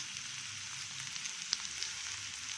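Curry leaves sizzling in hot tempering oil in a pan, a steady soft frying hiss with a few small pops, close and alone without talk.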